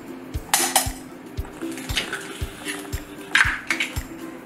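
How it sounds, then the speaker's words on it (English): Two eggs whisked in a small bowl, quick rhythmic clinks of a utensil against the bowl about every half second, close and clear with a faint ringing tone. "we're just going to whisk them and heat them up"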